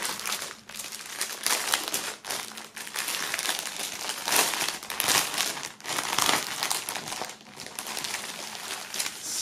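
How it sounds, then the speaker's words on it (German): Plastic shrink wrap crinkles and crumples continuously as it is pulled off a boxed rap album set, with loud, close rustling bursts and no talk. "werden wir das nochmal kurz aus dem Plastik holen"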